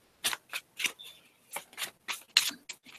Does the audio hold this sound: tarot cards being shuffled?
yes